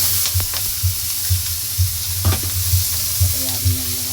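Tomato and ginger frying in a pan, a loud steady sizzle with a rhythmic stirring scrape repeating about twice a second, close up and with no talking.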